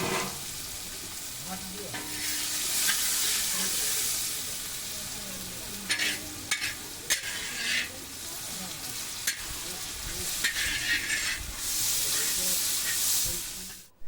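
Cumin, bay leaf and chopped onion hit hot oil in a kadai for a fish kalia, giving a steady loud sizzle with bursts of hissing and stirring scrapes.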